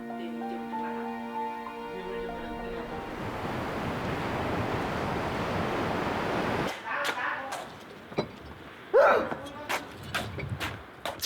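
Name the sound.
cold sea wind and waves on the coast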